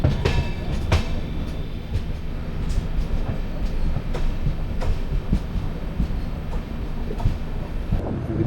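Train running on the ghat line toward Thenmala and Tenkasi across the Western Ghats: a steady, loud rumble of wheels on rails with recurring clicks and clacks from the track joints, and no speech.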